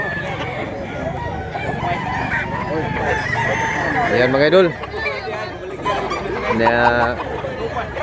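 A fighting rooster crows loudly twice, with hens clucking and other fowl chattering around it at a Cebu farm, while someone talks over the birds close by.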